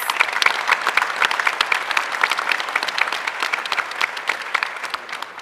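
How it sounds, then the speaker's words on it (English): An audience at a town council candidate forum claps steadily, a dense and lively round of applause that carries on throughout and tapers slightly at the end. "Please give them a round of applause."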